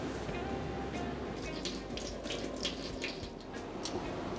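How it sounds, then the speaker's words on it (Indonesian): Running tap water rinses a microscope slide during a microbiology acid-fast staining lab, a steady hiss of flowing water over the slide with small splatters, close and continuous without pause. "kita alirkan di air mengalir"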